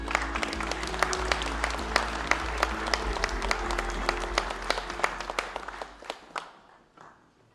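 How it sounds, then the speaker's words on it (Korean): A room full of people claps steadily in welcome for Lee Jae-myung, Democratic Party candidate, at a meeting with the heads of five business associations, the applause holding strong before tapering off near the end. "이재명 후보님을 큰 박수로 맞아주시기 바랍니다"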